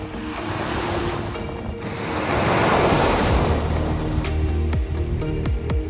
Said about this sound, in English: I made it to Morningstar Beach.